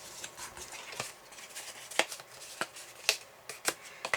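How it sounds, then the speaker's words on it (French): A bone folder creases folds in paper, giving a series of short, crisp scraping strokes and soft taps at an irregular rhythm, close and quiet, with no talking. "Avec son plioir, on marque bien tous les plis."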